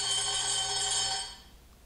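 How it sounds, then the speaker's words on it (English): Vibration unit of a Micron Powder Characteristics Tester PT-X running, a loud steady buzzing hum for about a second and a quarter before cutting off to near silence. "Gets rather noisy, so we'll just stop it midstream just to confirm that the vibration is working."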